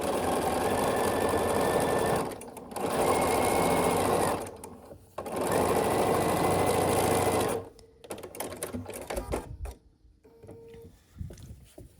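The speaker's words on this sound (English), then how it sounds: "We have one more seam to sew here, and I'm gonna sew this." A sewing machine stitches a quilt block seam on a checkerboard star block for a peppermint tree skirt. It runs in three steady, loud whirring bursts with brief pauses between them, then falls to quieter fabric handling and clicks.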